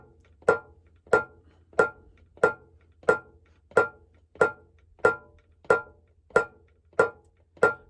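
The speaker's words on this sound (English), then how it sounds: "I'm just going to play the bell." A single bell strikes a steady Santos rhythm pattern, about a dozen evenly spaced, sharp metallic hits with quick decays, played alone at close range against a quiet background.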